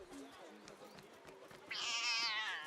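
A cat meows in the video game Assassin's Creed Mirage, heard as a single drawn-out, fairly clear meow near the end over a low background bed.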